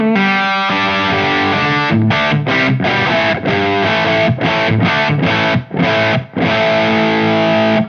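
Electric guitar run through a Wampler Mofetta distortion pedal, thick saturated chords struck in choppy rhythmic bursts with short gaps, loud and close with no talking.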